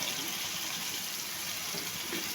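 Water poured from a glass into a pan of chicken and pea curry, a steady broadband splashing and gushing that runs continuously and evenly for a couple of seconds, close and fairly loud, with no talk over it.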